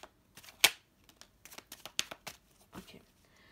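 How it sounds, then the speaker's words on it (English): A deck of tarot cards being shuffled by hand, a string of quick riffling, flicking bursts with brief gaps between them, close and clear with no talking. "One last shuffle."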